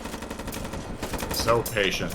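Gunfire sounds in a video game during a competitive league playoff match, with rapid bursts of shots under excited commentary.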